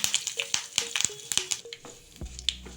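Grated coconut and fresh curry leaves crackle lightly in a hot pan, giving sharp, scattered pops and sputters close up with brief quiet gaps and one dull knock near the end.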